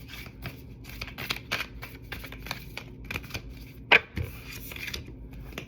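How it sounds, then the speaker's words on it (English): Tarot card deck being shuffled close up, a quiet run of soft riffling flicks and taps with one sharper snap near the end. "Let's see if I shuffle out this deck."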